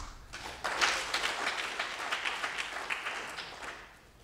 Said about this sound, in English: Sound of applause.